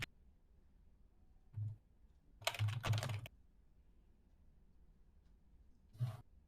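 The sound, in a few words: computer keyboard typing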